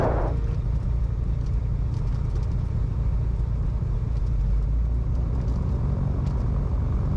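Cessna Skymaster twin piston engines running during a ground run-up on smooth pavement, a steady loud low rumble and drone that holds continuously throughout with no talk.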